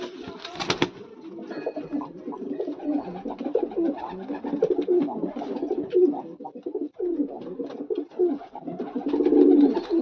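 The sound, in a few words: pigeons cooing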